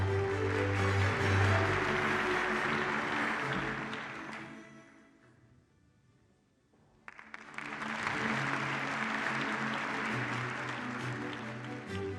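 Loud applause from a crowd fills the room at an awards ceremony, fades to near silence midway, then a fresh round of clapping swells up and continues steadily.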